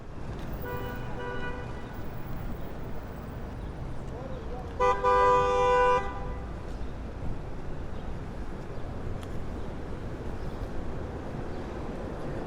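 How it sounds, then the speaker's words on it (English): Busy traffic at Broadway and Elmhurst in Queens, New York City, on a July day: a steady roadway rumble with a loud car horn honking for about a second midway, plus fainter toots earlier and scattered street noise. "As usual, Broadway and Elmhurst has a lot of traffic."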